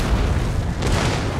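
Artillery cannon fire in an Empire: Total War battle during a Spanish assault on Martinique rolls out as loud, dense booming. The low rumble is continuous and overlapping for the whole moment, with no voices.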